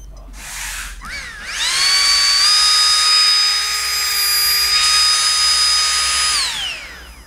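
A Kyosho Fazer RC car engine revs up from idle into a loud, sustained high-pitched whine, holds for several seconds, then winds back down.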